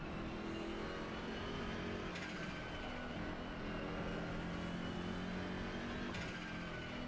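A racing car engine in a video game, turbocharged, drones steadily and fairly quietly, with two sharp shifts in pitch as it accelerates out of a curve.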